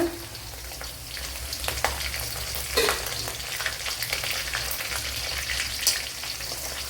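Garlic, ginger and green chillies fry in a pan for Kerala-style mango peratt, giving a constant soft sizzle with scattered crackles and a few spoon scrapes, no talking.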